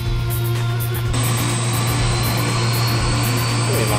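A helicopter engine in ArmA 2 drones loudly and steadily throughout, with a constant deep hum under a high turbine whine and no talking.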